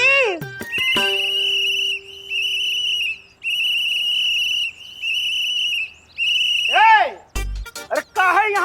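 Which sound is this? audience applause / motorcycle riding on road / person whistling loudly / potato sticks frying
person whistling loudly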